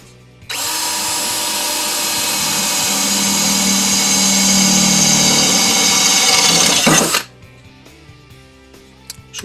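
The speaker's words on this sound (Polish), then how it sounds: "drugi bieg, wiercenie próbujemy, wiertło szóstka" A DeWALT DCD734C2 14.4 V cordless drill in second gear whirs steadily for about seven seconds with a 6 mm Parkside bit, its pitch dipping slightly as it bites into the material, then it stops abruptly.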